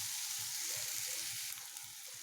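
Dry fish and chili chutney fry in oil over a low gas flame, giving a steady, close sizzle with soft rhythmic stirring thumps underneath and no talking.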